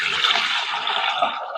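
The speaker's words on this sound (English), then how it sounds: "Fill to water." Water pours from a bucket into a Vevor 6L ultrasonic cleaner, a continuous loud splashing gush close by with no voices over it.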